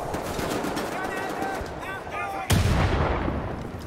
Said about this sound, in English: Wait, I want to use your grenade.